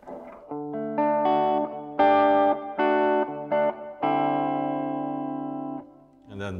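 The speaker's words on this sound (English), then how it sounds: "Maybe we can try with a clean sound." A Flight electric guitar with a clean tone plays a few sustained chords and single notes, fairly loud, ringing out with a short pause near the end.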